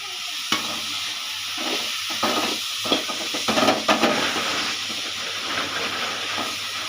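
A Tamil kuzhambu curry simmers and sizzles in a pan with a steady bubbling hiss, while a spoon scrapes and clinks against the pan in irregular stirring strokes.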